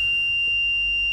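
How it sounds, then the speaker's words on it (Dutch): Alarm on a lock panel sounding as a single sustained high electronic tone, continuous and loud over a faint low hum, with no speech. "alarm"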